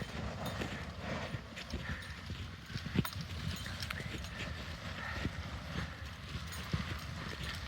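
Steady clip-clop of horse hooves on hard ground, a continuous rhythmic stream of hoofbeats over a noisy outdoor background.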